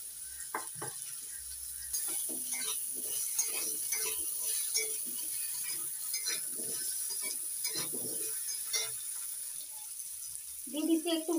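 Cut potatoes fry in leftover egg-frying oil on a home stove, a soft steady sizzle with scattered crackles beneath intermittent talking, while spoons clink against the pan.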